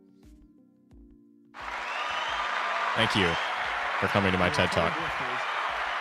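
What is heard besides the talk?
soundboard applause sound effect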